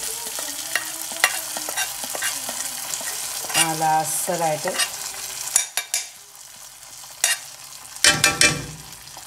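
Ingredients sizzle and fry in a pan for vellari pathya, a Kerala cucumber curry, as they turn brown. A spatula scrapes and stirs in clustered bursts, and a voice speaks briefly.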